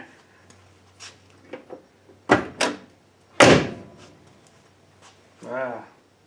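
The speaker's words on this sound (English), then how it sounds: "Let's see how that door shuts." A 1965 Impala door fitted with new seals swings shut several times, giving a few soft thuds and a couple of firmer, solid slams spaced apart, with someone speaking briefly near the end.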